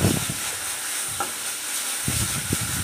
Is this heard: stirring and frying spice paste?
yes